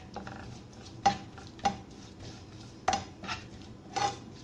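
A metal spoon scraping and tapping in a cooking pan while spices and tomatoes are stirred together, several distinct clinks at irregular intervals over a quiet background.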